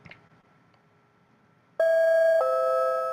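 An electronic bell chime rings out loud and steady, a two-tone ding-dong that begins suddenly after a quiet stretch with a brief faint sound at the start, and sustains to the end.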